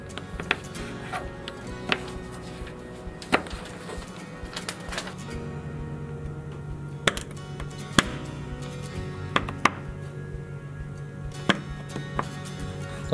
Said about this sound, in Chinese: 首先就将嗰排朱古力就切碎。